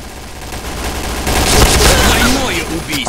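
A grenade explosion and gunfire in the video game Point Blank, a swelling blast with rattling shots over a steady game background, loud and close, with a voice also present.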